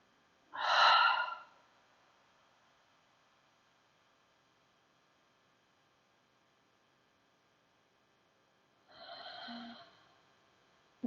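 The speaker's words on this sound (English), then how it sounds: "inhale deeply through your nose. And exhale" Deep breathing during a yoga session: one clear breath drawn in through the nose near the start, then a long quiet gap, then a softer exhale near the end.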